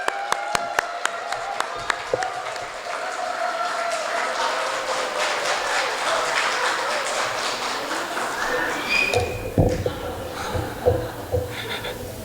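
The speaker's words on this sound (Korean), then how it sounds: "우리 따뜻한 박수로 환영해 주시면 좋겠습니다" Applause welcomes a pastor at a church staff seminar. A few sharp single claps open it, then a crowd builds into sustained clapping that lasts several seconds before giving way to room noise and shuffling.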